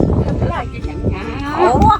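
A cow moos loudly and close by in a rural village setting, a long rising bellow that swells toward the end, with people's voices and background noise mixed in.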